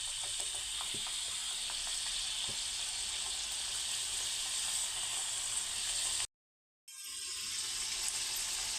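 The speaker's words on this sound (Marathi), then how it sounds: "आता आपण यांना तळून घेऊयात" Layered champakali dough pastries fry in hot oil, a steady bright sizzling hiss with a few faint clicks early on, cut by a short silent gap before the frying resumes, with no talking.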